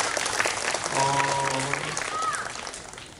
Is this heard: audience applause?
yes